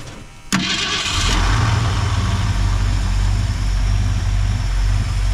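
An abandoned 1964 Ford Fairlane, a Thunderbolt clone sitting for 29 years, cranks briefly and fires, then settles into a loud, rough, rumbling run close by.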